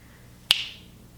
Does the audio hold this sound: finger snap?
yes